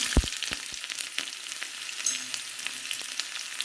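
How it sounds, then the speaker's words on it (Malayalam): Mustard seeds and onion sizzling in hot oil for a chicken curry tempering, a close, continuous fry with quick popping crackles and a few sharp clicks. "ചൂടായ എണ്ണയിലേക്ക് നമുക്ക് കടുക് ഇട്ട് കൊടുക്കാം ഉള്ളി ഇട്ട് കൊടുക്കാം"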